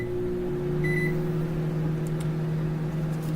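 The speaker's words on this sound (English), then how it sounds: "now this is in the microwave, and we're just gonna try to get it to boil the water" A microwave oven runs steadily while heating water to a boil, its constant low hum and fan drone filling the clip, with a brief high beep-like tone near the start.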